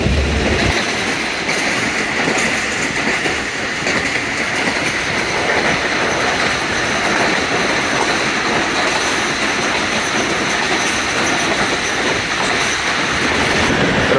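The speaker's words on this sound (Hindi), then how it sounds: "ट्रेन हमारी अप्रोच कर रही है नौशहरा रेलवे स्टेशन पे।" Aboard the Khyber Mail passenger train running at night between Peshawar and Rawalpindi, a loud, steady roar of wheels on rails carries a rhythmic clickety-clack with occasional squeals, with no talk.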